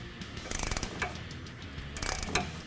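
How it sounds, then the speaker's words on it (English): Two short bursts of ratcheting clicks from a 15mm wrench and 14mm ratchet socket tightening turnbuckle clamps on a Rugged Ridge adjustable track bar for a lifted Jeep Wrangler JK. The clicks are close and crisp, with a quiet pause between the bursts. "Now we're going to tighten the clamps on the turnbuckle with a 15mm wrench and 14 socket."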